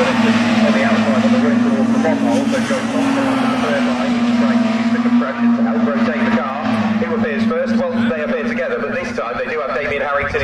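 Mini Se7en race cars compete at Snetterton, their engines holding a steady high droning whine through the whole stretch as a commentator speaks over them.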